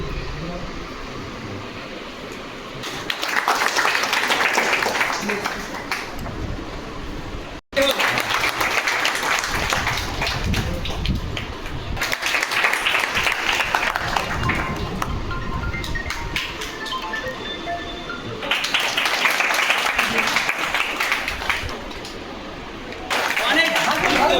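At a district marketing management gathering in Malda, a crowd breaks into several rounds of clapping that swell and fade across the stretch, with a voice over a microphone speaking between and over the bursts.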